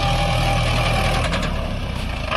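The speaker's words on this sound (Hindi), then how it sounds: "गाइस फाइनल ट्रैक्टर को पूरा बैक करके लगाया जा रहा है।" A tractor engine rumbles steadily at close range, loud and continuous, while the machine backs up to load sand near a forest. A low, even drone holds throughout.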